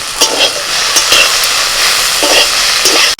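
Turmeric powder frying in a clay pot and being stirred, a steady loud sizzle with repeated scraping strokes of the spoon close by and no talk.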